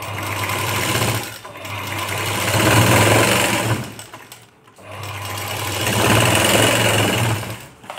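A sewing machine stitches the lower side of a puff sleeve in loud, steady motor bursts, two long runs separated by a brief pause, with no talking.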